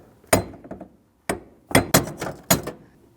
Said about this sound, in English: We'll give it a couple bonks to try to break it free.